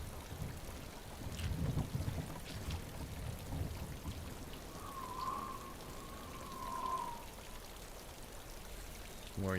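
Rain and thunder in a video game: a steady, faint hiss of rainfall with a low rumble of thunder early on, and a brief tonal sound partway through.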